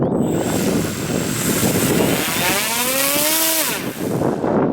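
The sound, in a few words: survey drone flight motor running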